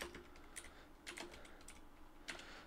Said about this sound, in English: which is why I'm typing like an absolute idiot